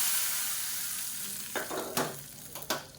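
Hot tempering poured into cabbage sambar gives a steady broadband sizzle, with a few sharp splatter bursts and clatters near the end, close and moderately loud with no talk.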